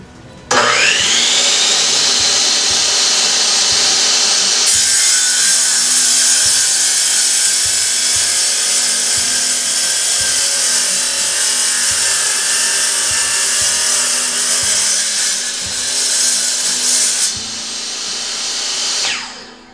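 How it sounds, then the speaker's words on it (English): A Ridgid 10-inch wet tile saw bevel-cuts tile at 45 degrees: the motor spins up into a steady, loud whine that holds for nearly twenty seconds and shifts slightly as the blade works through, then stops. "we're going to do a 45 cut and see how quickly it can get her done"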